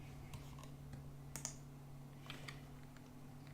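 Keys click on a computer keyboard while someone types a number during a Roblox Miner's Haven session. The taps are faint and sparse, with a steady low hum underneath.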